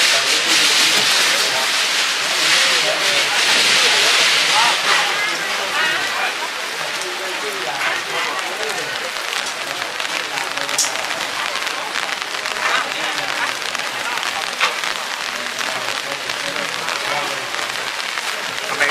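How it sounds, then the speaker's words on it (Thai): Steady heavy rain hisses throughout at Wat Khao Chong Lom temple in Si Racha, a dense continuous patter, with indistinct voices faintly underneath. "ฝนกับฝนกำลังตกครับ"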